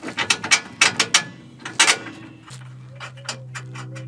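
Ratcheting clicks from a wrench tightening the rear hub screw on a Volkswagen Eos suspension, quick bursts of metallic pawl clicks with short pauses, then a faint hum at the end.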